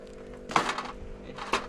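Two dull wooden thunks from a hammer striking timber during a house demolition, about a second apart, close and fairly loud with a quiet background between blows.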